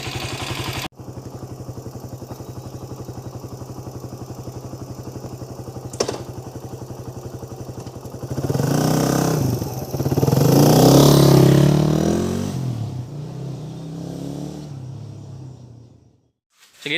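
A Suzuki Raider 150 idles with a steady putter, then revs and rides away, the engine note rising loudly in bursts with clattering before fading into the distance.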